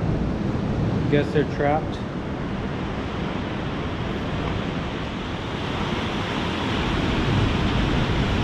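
Steady, loud ocean surf washes continuously at Laguna Beach's 1000 Steps, a dense roar of waves close by, with someone speaking briefly over it near the start.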